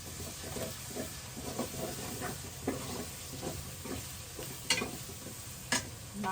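Ginger-garlic paste dropped onto browned onions frying in a village kitchen pan gives a quiet, steady sizzle, punctuated by a few louder stirring scrapes and clinks.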